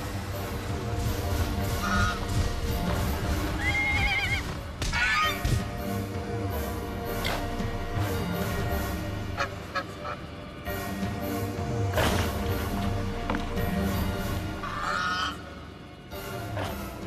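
Diatryma, a two-metre-tall carnivorous prehistoric bird, gives repeated harsh honking calls over a busy background, the cries recurring irregularly throughout and sounding moderately near.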